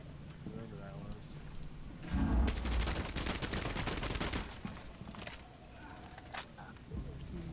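Rapid gunfire bursts in Rainbow Six Siege as a player shoots down a staircase, loud sustained shots over a couple of seconds, with players talking over the game audio.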